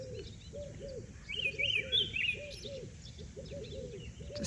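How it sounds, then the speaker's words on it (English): Turtle doves coo in a steady repeating rhythm while smaller birds chirp and tweet higher up, an outdoor morning chorus on a Karoo road trip, moderately near and unaccompanied by talk. "We've woken up to the birds tweeting, the turtle doves."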